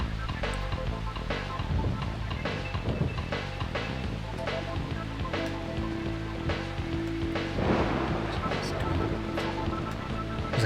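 Heavy steady rain with splashing and dense patter, plus low rumbling thunder and scattered thuds, continuous throughout, in the video game Deadly Premonition Origins.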